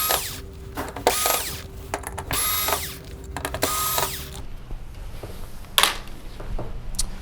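Screws being backed out of a circuit board inside a Vizio V405-G9 TV: several short, close whirring bursts from a driver, separated by brief pauses and light handling noise.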